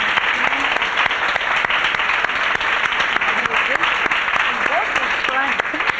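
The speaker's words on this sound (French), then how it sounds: "je veux vous applaudir" An audience at a talk bursts into loud, close, sustained clapping for a speaker, crisp and dense throughout, with some voices and whoops mixed into the applause.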